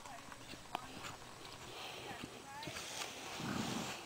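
Horse hooves thud softly on the ground during a jumping lesson, with a few irregular, muffled footfalls under faint background noise.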